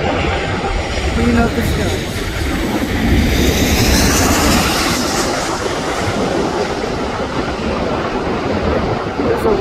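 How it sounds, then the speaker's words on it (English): A Korean Air Boeing 747 jet departing gives a steady, loud broadband roar that holds throughout, with a person talking over it. "Departing for Seoul, Korean Air 747, passing."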